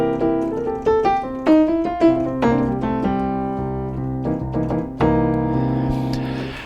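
A soft, mellow grand piano keyboard patch, a modified stock Mellow Grand performance, with a layered, sustained pad underneath plays a melodic passage, notes ringing together warmly with no voices.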